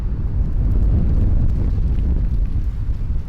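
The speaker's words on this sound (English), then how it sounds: "it's really windy" Heavy wind buffets the microphone in a continuous low rumble, loud and gusty throughout, with no voices.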